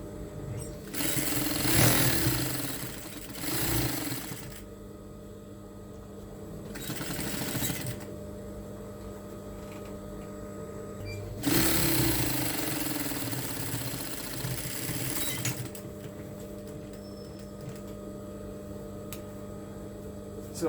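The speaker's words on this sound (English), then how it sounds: "Then you sew starting from this side." A sewing machine stitches the fabric band of a cape, running in several loud mechanical bursts of rapid whirring, separated by quieter pauses of low motor hum.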